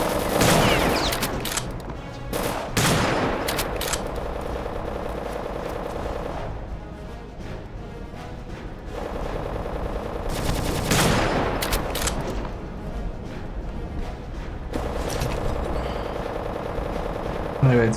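Rapid bursts of automatic gunfire from the video game RealRTCW, loud and close, in several sustained volleys separated by brief pauses, with a player talking at times.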